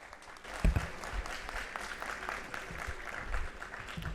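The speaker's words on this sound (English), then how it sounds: "So one big round of applause for all of you." A hackathon audience applauding together, a sustained wash of clapping from a large crowd that stays fairly even from start to finish, with a brief louder thump early on.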